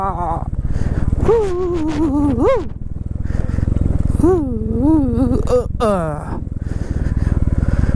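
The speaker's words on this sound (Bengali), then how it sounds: "মনে হচ্ছে বাইক নিয়ে ট্রেক করছি।" A motorbike engine drones steadily while riding a rough, muddy mountain road with hairpin bends, its pitch rising and falling as the rider works the throttle over uneven ground, loud and close throughout.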